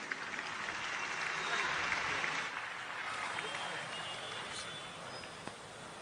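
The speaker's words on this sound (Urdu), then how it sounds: "زوردار تالیوں سے ان کا خیر مقدم کیجیے۔" Audience at a Kul Hind mushaira held for Independence Day applauds to welcome a guest poet, a dense sustained clapping that swells briefly and then settles into steady applause.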